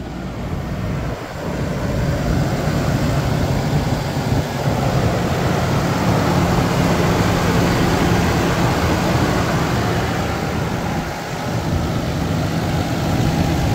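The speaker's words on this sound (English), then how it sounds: "So I'm standing outside and I started her up." A 1995 Toyota Land Cruiser FZJ80 engine idles steadily and fairly loud after starting, a low continuous rumble with a slight dip midway and no voices.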